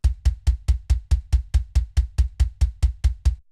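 A raw kick drum repeats steadily about four times a second, deep thumps with a short click on each hit, played alone.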